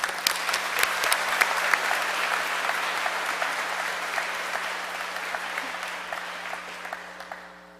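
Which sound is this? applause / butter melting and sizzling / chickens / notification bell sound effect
applause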